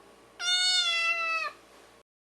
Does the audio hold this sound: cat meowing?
yes